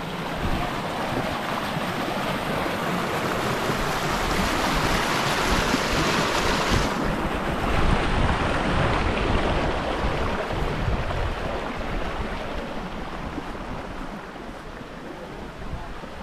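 River water at a bathing spot flows and rushes continuously with a broad, steady wash, joined by wind buffeting the microphone and no talk over it.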